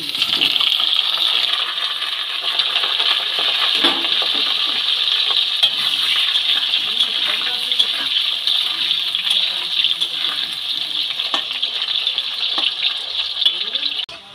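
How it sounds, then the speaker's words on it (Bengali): Potatoes fry in hot mustard oil in a wok for a Bengali vegetarian cabbage curry, giving a steady, close, dense sizzle that crackles evenly throughout with no voices. "বাঁধাকপি রান্না করার জন্য আগে আলুগুলো আমি ভালো করে ভেজে নেব।"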